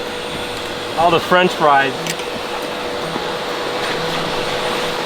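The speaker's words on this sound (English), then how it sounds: "Fudge is giving it a quick vacuum" Vacuum cleaner running steadily inside a BMW G-series car interior with the seats removed, a constant broadband drone that continues under brief talk from a man.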